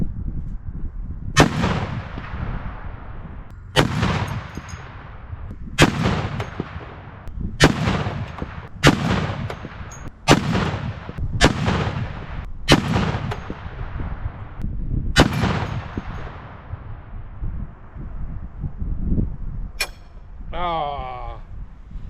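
A .50 caliber rifle fires a magazine into a concrete target outdoors, about nine heavy, booming shots spaced a second or two apart, each ringing and decaying, with a brief high whine near the end.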